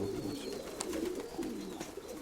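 Pigeons coo softly nearby in a short low rolling call that repeats a couple of times, with no talk over it.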